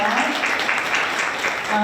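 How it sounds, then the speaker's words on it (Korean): An audience claps at a Korean university innovation forum's student session, a short, loud burst of crowded applause with a voice speaking over it. "다시 한번 큰 박수 부탁드릴게요"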